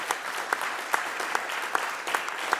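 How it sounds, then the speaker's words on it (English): Steady applause from a crowd at a community college board meeting, with a few sharper claps standing out at a regular pace, continuing evenly throughout. "join me in a round of applause for all the faculty"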